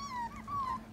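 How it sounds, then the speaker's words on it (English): Vizsla puppy whimpering and yipping in short, high-pitched, wavering cries, close and clear over a steady low hum, with no talk. "I love that little bark."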